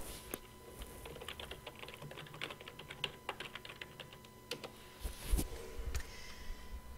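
Fingers tap a computer keyboard in quick, irregular bursts of light clicks, close and quiet, with brief pauses between runs of keystrokes.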